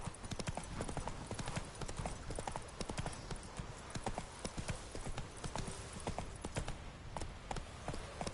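Roach, the horse in The Witcher video game, gallops in a steady, fast clip-clop of hooves that carries on throughout, loud and close, with a brief faint whinny possible.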